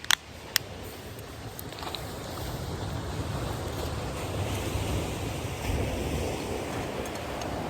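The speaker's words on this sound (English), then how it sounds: "them waves are really noisy" Ocean waves break along the Moray Firth shore in a continuous, moderately loud rush with surging swells and wind noise, plus a few sharp knocks near the start, with no voices.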